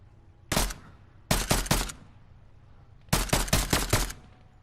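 Rapid bursts of gunfire in Fortnite Chapter 5 Season 1: a single shot, then a tight cluster of three, then a fast volley of about six loud cracks, each ringing out briefly.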